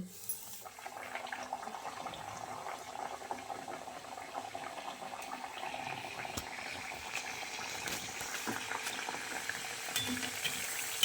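Wheat flour buns fry in a pan of oil, a soft, steady bubbling sizzle with occasional faint pops, close but fairly quiet, running continuously without talk.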